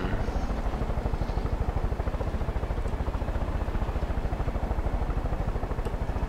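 Helicopter in the video game Far Cry 5, a loud, steady rotor chop throbbing evenly throughout, close and continuous with no talk over it.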